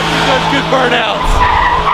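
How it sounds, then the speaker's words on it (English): Tires squealing and skidding from an LS-swapped Datsun 280Z doing a burnout, a loud continuous screech with engine roar underneath. "Good burnouts."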